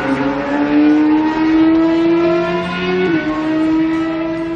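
A Kawasaki Ninja ZX-10R four-cylinder endurance racing motorcycle engine revs hard and close, a loud sustained tone rising steadily before a brief dip and shift near the end.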